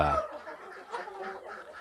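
KUB-2 village chickens cluck in short, soft bursts at close range, scattered calls with a brief louder low sound at the start.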